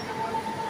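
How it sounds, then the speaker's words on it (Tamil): A train rolling past at a railway station near a market, a steady rumble of wheels with a faint metallic squeal running through it, moderately loud and without talk. "அது இப்ப போற ட்ரெயின்"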